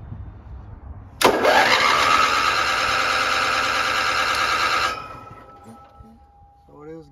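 A 35-year-old RV's engine cranks over loudly and steadily for several seconds close by, a harsh droning whir that stops abruptly, leaving faint bench noise.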